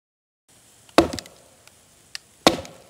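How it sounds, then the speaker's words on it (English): Two sharp chopping strikes of a small axe splitting wood, about a second and a half apart, each followed by a brief rattle, with a light tap between them. "Problem now is to split this sucker in half with a tiny axe."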